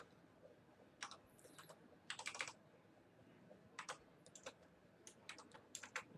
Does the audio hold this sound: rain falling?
no